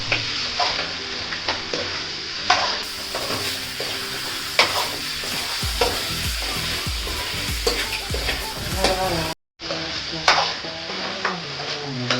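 Mutton curry cooking in oil sizzles steadily while a spoon scrapes and stirs the pan in repeated clattering strokes, close and fairly loud, with a brief dropout near the end and no voices.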